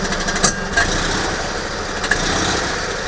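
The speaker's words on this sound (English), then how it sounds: "now comes the scary bit, where we raise the revs and the clutch engages" An Invacar's small engine revs up as the clutch engages in reverse, a loud, steady buzzing drone with a few brief sharper spikes, close by and without talk.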